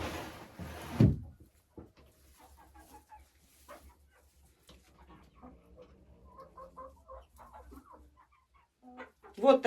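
Laying hens cluck softly and intermittently in a coop, with scattered close bumps and a louder knock at the start and end.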